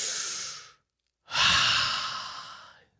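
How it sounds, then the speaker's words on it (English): A deep breath drawn in and let out in a long, loud exhale, the breathy inhale cutting off into a brief silence before a sustained sighing outbreath fades away, with no talk. "Let's all take a deep breath and exhale."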